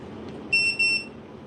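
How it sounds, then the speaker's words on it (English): A Kaleido 75 coffee roaster signals its connection with two short high-pitched electronic beeps in quick succession, clear and pure-toned over a quiet room hum. "beeps means it's connected"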